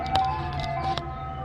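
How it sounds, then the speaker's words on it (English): Tinkling ice cream truck jingle out on a residential street, a short stretch of high chiming melody heard at a steady moderate level with no talk over it. "An ice cream truck is coming to my house?"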